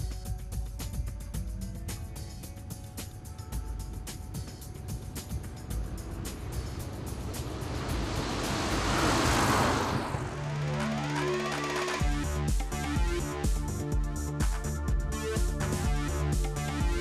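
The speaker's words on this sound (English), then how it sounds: "Kilo Lima Sierra VFR Navajo is taxiing for Canberra, runway 36 Jerilderie" Piper Navajo twin-engine aircraft taxiing at Jerilderie, a steady loud engine drone with a rising whoosh that swells and fades midway, then a pulsing, throbbing engine tone.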